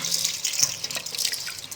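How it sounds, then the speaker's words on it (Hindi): Fresh herbs are rinsed under a running tap, soil washed off in a steady splashing stream with light drips and sloshes, close and continuous. "अब फिर एक पानी इसको हम धोएंगे।"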